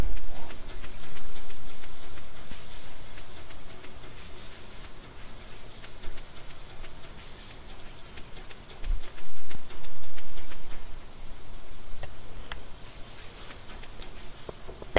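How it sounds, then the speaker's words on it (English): Steady rain falls in the farming video game Stardew Valley, a constant soft patter filling the whole stretch with no other clear sounds. "There's just something honestly peaceful about like thundery, rainy, gloomy weather."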